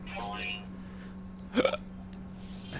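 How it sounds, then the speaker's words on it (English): One sharp, short hiccup from a person, loud and close, over a steady low electrical hum with no other voice around it. "Hiccups."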